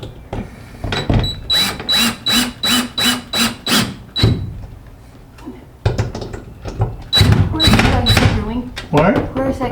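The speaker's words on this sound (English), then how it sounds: "Now when I actually screw it in, I'm going to have to lift it up a little bit." A power driver screwing a window into a DIY box truck camper, with a quick run of short, evenly spaced whirring bursts, a pause, then another run, loud and close while people talk throughout.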